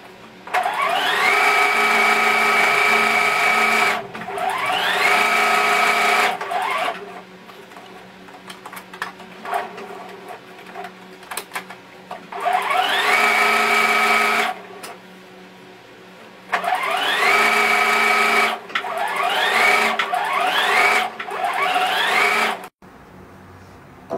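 A sewing machine stitches all the way around a fox-tail pattern traced on fabric for a baby's comfort blanket. Loud, steady runs of several seconds each alternate with quiet pauses, close to the machine.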